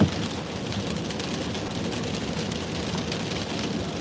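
Heavy outdoor rain falling in a steady, dense wash of hiss with no clear individual drops, constant and fairly loud throughout.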